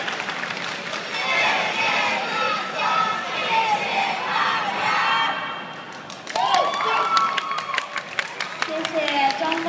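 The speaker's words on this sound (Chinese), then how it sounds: "掌声。" After a student singing performance at a university creative singing contest, the audience cheers and shouts, then breaks into sharp, scattered applause that builds toward the end.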